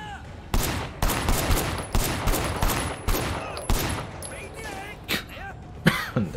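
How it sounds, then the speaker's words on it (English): Loud, sharp bursts of gunfire in the video game Sleeping Dogs, repeated shots in quick clusters and single cracks, with a voice talking intermittently between them. "Very loud guns."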